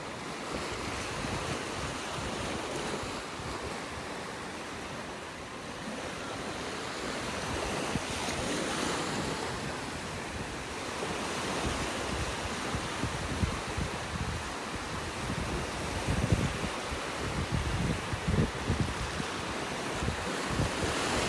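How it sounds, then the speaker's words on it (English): Ocean waves washing up on a beach in North Naples, Florida, a steady, moderately loud surf wash mixed with gusty wind noise on the microphone, continuous with gentle swells. "the waves are coming up now and starting to wash away the shells"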